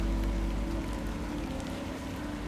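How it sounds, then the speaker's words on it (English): Steady rain falls in the video game The Excavation of Hob's Barrow, a continuous even wash of patter under a low hum, with no talk. "Of course it's raining."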